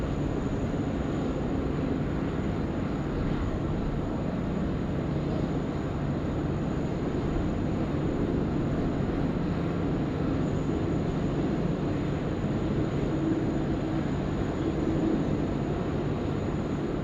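Airliner taking off from runway 34 left at Sydney Airport at night, a constant broad distant jet roar with low rumble that holds steady and unbroken throughout, no voices.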